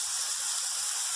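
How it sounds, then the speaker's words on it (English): Vegetables and garlic sizzling in oil in a pan set on a Weber kettle grill, giving a steady, bright hiss that runs unbroken from start to finish. "But you hear that sizzle?"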